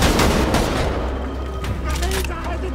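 Dense gunfire from the game Wolfenstein The Old Blood fills the whole moment, loud rapid shots and booms layered over continuous rumble.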